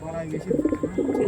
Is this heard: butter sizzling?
no